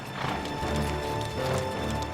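Horses marching two by two along a narrow path into a valley, their hooves producing a steady, dense clip-clop at moderate distance beneath a continuous ambient wash, with a faint whinny and no speech.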